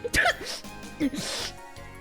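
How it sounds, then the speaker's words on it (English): A single sharp sneeze near the start, followed by brief vocal sounds and a short spoken word. "Was that a sneeze?"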